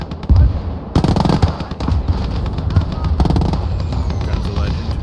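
A 15cm artillery gun fires in the World War II strategy game Gates of Hell: Ostfront, with sharp booming blasts and crackling gunfire bursting in over battlefield rumble while a player talks.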